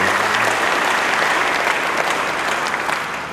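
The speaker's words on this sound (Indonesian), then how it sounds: "Yang percaya, beri tepuk tangan yang baik bagi Tuhan." A church congregation applauds for God, a full, dense wash of clapping that holds steady throughout and fades slightly at the end.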